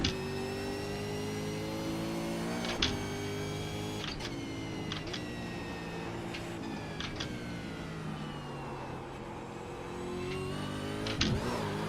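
V8 Supercar engine in the iRacing sim at Imola, droning steadily with rising and falling harmonic pitch through gear changes, a few sharp bumps and knocks standing out, held at close, even loudness throughout.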